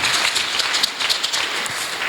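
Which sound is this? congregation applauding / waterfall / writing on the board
congregation applauding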